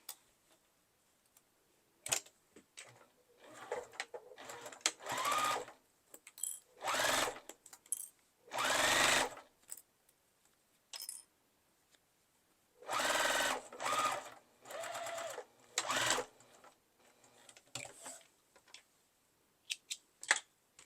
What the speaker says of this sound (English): And sew that across.